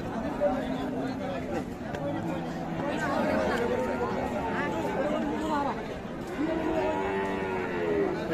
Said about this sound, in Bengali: এটা কি ষাঁড় বাচ্চা?